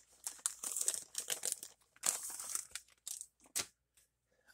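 Crinkly foil wrapper of a Pokemon card pack tearing and crumpling up close, several bursts of crackling rips with short pauses between them, loud and alone.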